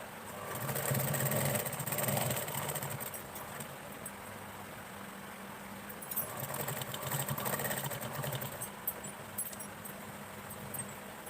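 A sewing machine stitches a seam while sewing a dress slit, its quiet motor whirring in two distinct runs separated by a calmer pause.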